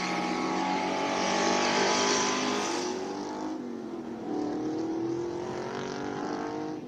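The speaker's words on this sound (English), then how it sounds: "Love the sound of the V8s." Loud classic V8 race cars roar past one after another at Speed Classic Cape Town, a dense V8 rumble that swells, dips around the midpoint, then builds again as another car approaches.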